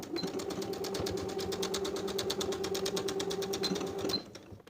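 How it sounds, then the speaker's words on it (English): A sewing machine runs steadily for about four seconds, stitching a 3/8 inch seam to close the gap in the outer layers of a four-layer cuff on an athletic top, then stops abruptly. "We're going to sew the gap closed with the same 3/8 inch seam allowance."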